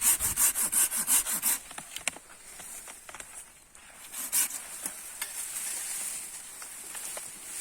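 Pruning saw cutting through an olive tree branch, with a quick series of rhythmic rasping strokes at first, then slower, scattered scraping and rubbing.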